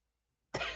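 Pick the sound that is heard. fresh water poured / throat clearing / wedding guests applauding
throat clearing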